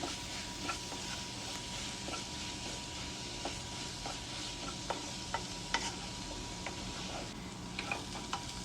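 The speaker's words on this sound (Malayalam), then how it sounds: "നല്ല ബ്രൗൺ ആവുന്നവരെ നല്ലോണം വഴറ്റിയിട്ട് എടുക്കുക മീഡിയം ഫ്ലെയിമിൽ" Ginger garlic chili paste is sautéed on a medium flame for Thalassery chicken biryani: a soft, steady sizzle with regular spatula scrapes and taps throughout, close by and without speech.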